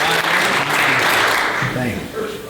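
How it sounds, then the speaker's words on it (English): A crowd breaks into loud applause for Bret, a dense burst of clapping with voices talking over it as it thins out toward the end. "Applaud for him"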